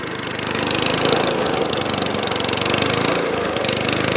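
An Atco Balmoral lawn mower engine in need of carburetor work runs loud and close, with a continuous rough, slightly knocking drone throughout.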